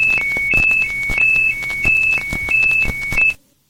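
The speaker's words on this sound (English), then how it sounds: "The fire warning horn is made up of two alternating tones that sound like this." An aircraft fire warning horn sounding loudly in two alternating tones, high and slightly lower, repeating in a quick steady cycle before cutting off abruptly.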